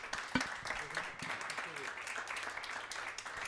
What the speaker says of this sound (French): J'aimerais qu'on fasse une ovation pour nos intervenants